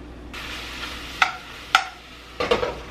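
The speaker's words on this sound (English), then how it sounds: "So with the oil that we did place in there, it's going to start kind of frying it a little bit" Steak fries in oil in a pan, giving a steady low sizzle broken by three sharp metallic clinks of utensils against the pan, with no talking.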